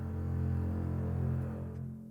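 Trombones and double basses hold low pedal notes in a Christmas orchestral arrangement, a steady, deep sustained drone at moderate level that fades slightly near the end, with no voices.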